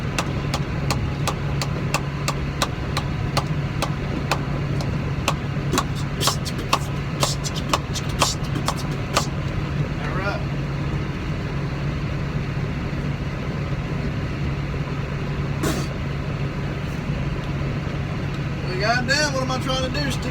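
Tractor engine running steadily while being driven, a continuous low rumble throughout with scattered clicks and rustles nearby and a voice under it.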